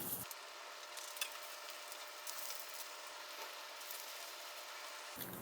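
June plum and frankfurter fritters fry in oil in a pot, giving off a steady, even sizzle with faint crackles and pops. No one speaks.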